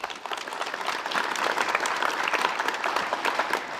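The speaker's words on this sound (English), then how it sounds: "Please give them a round of applause." An audience claps in a steady round of applause that swells slightly after the start and continues evenly, with scattered individual claps audible.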